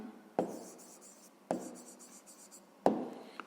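Pen strokes writing out a handwritten math solution for a fifth-grade exercise, three distinct bursts of scratchy writing separated by short pauses, close and fairly quiet, with no talking.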